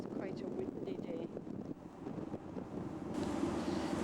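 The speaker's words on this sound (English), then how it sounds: "It's quite a windy day." Strong wind buffeting the microphone on the deck of the Wellington to Picton ferry crossing, a steady loud rushing roar with gusts, engine and water noise beneath and faint voices in the background.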